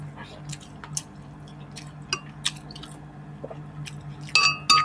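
Biting into tofu and pork in a Filipino mukbang, with moist squishy chewing sounds and small wet clicks close to the mic, a couple of louder bursts near the end.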